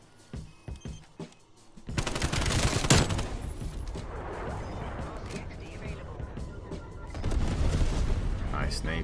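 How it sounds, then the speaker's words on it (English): Explosive blasts from a napalm strike in the game Call of Duty Cold War, erupting as a loud sustained roar and crackle after a quieter start, swelling again near the end, with players talking over it. "Nice napalm."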